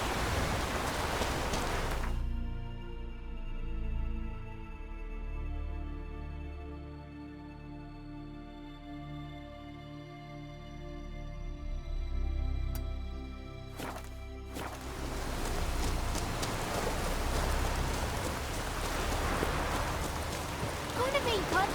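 Heavy rain pours steadily in The Witcher 3, a dense hiss that cuts out abruptly for a long stretch, leaving a quiet tonal drone, then returns full and loud near the end.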